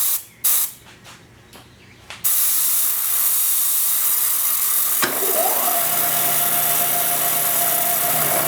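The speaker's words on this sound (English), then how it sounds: "coolant going on this guy here." Coolant sprays onto a metal workpiece on a milling machine while hydraulic cylinder pins are being made. After a few short clicks and knocks, a loud, steady hiss starts, with a machine whine rising underneath partway through.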